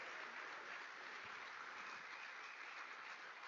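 Steady, distant crowd applause at a demo day event fills the room as an even, continuous wash of clapping with no voices standing out.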